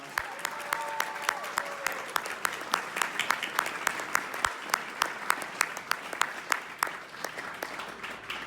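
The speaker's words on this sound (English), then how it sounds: "so could we give them another round of applause?" Audience at a winter graduation ceremony clapping steadily for the graduating students, a sustained round of applause with sharp individual claps standing out, heard alone without talk.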